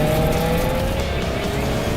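A 2022 Subaru WRX takes sharp corners, its engine holding a steady mid-range drone with a faint rising whine and road noise, heard from inside the car and fairly subdued.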